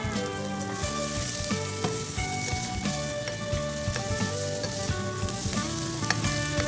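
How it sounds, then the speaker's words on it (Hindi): Capsicum, green onion, carrot and cabbage fry in a hot pan with a steady, bright sizzle and crackle, with occasional stirring clinks and background music underneath, no voices. "थोड़ा सा फ्राई करेंगे इस तमाम वेजिटेबल को।"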